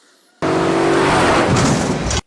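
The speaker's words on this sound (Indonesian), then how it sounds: "tiba-tiba ada mobil yang ingin menabrak Kohaku" A car speeds in and skids toward a pedestrian in a film scene, a sudden loud burst of engine roar and screeching tires that holds for about two seconds and then cuts off abruptly.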